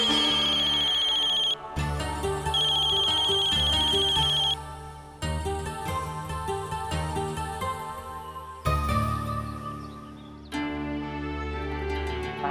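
A phone rings repeatedly with no answer, a steady electronic ringtone repeating over background music.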